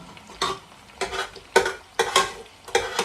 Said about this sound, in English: I'll finish frying my plantain.